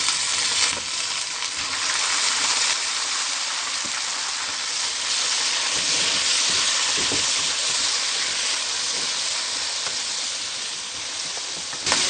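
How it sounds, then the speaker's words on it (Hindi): Chicken pieces frying in a pan after onions are browned, for butter chicken, giving a loud, steady broadband sizzle with occasional stirring scrapes throughout, no voices. "अब हम इसमें चिकन डालेंगे, इसको फ्राई करेंगे।"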